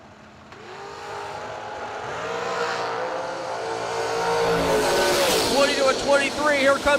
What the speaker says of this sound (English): Here comes the dragster.